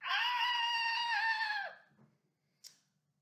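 A loud, sustained group scream rises and holds for about a second and a half during a children's nursery sing-along at a library baby music session, then fades, followed by a brief faint sharp sound.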